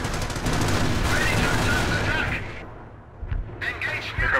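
A fast-firing machine gun in the World War II strategy game Company of Heroes rattles in a long dense burst, then cuts out before a few scattered shots and bangs return, with speech faintly underneath.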